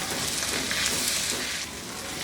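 Snake gourd frying with beaten eggs in a pan, giving a steady, close sizzle and crackle that runs unbroken with no voices.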